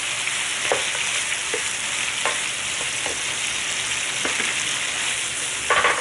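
Pork belly fries in a pan with a loud, constant sizzle and crackle, broken by occasional sharp pops and spatters, heard up close with no talk.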